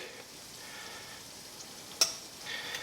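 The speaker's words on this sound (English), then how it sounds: "Our oil's already sizzling with the garlic right now." A soft, steady sizzle of hot oil with garlic in a pan hisses continuously at low volume, with one sharp metallic tick partway through.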